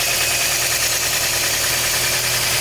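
A Scion xB's 1NZ-FE four-cylinder engine idles after fuel injector replacement, a loud, steady, even mechanical hum with a fine rapid ticking pulse, close up and uninterrupted.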